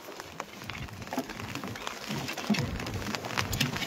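Steady rain pattering on a small wooden fishing dinghy out on the water, soft, even and continuous, with faint scattered drops and no voices.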